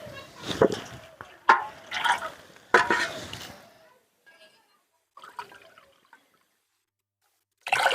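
Water is poured from a bowl into a pot for making sugar syrup, with splashing and trickling in short bursts, close by and fairly loud at first, then fading to faint dribbles. A voice talks over part of it.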